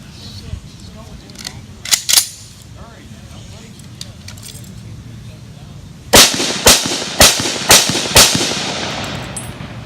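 A burst of rifle shots rings out at a military history weekend, with two sharp reports early, then a rapid string of about six loud, echoing cracks close by, each trailing off into outdoor reverb.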